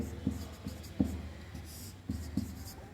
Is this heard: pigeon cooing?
no